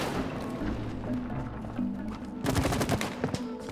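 Rapid gunfire-like shooting in the It Takes Two video game, a steady rattling burst that grows louder and sharper near the end, heard over background game music with no talk.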